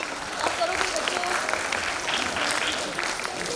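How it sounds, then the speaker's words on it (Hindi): A school audience at an annual function claps continuously to welcome the chief guest, a dense, even wash of applause with some voices mixed in. "उनका तालियों के साथ एक बार स्वागत करें।"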